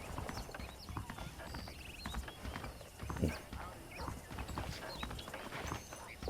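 Saddled horses clip-clop along in the Red Dead video game, a steady run of close hoof strikes on firm ground, with a brief louder scuffle midway and faint ambient background throughout.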